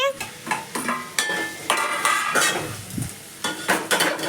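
Noodles and potatoes being stirred in a hot pan, a utensil scraping and clinking in quick repeated strokes over a faint sizzle, close and moderately loud.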